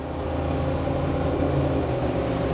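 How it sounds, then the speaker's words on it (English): Twin Yamaha XTO outboard engines on a Jeanneau Cap Camarat 10.5CC crossover boat roar continuously as they accelerate at sea, a loud, dense, close rumble with steady engine harmonics; no talking. "one of the other things that comes with these twin XTOs is noise"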